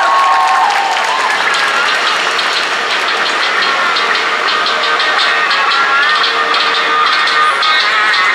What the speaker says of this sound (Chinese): 掌声欢迎，谢谢。